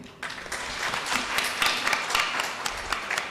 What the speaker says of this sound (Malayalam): ഒരു വലിയ ഒരു കയ്യടിയോടുകൂടി അദ്ദേഹത്തെ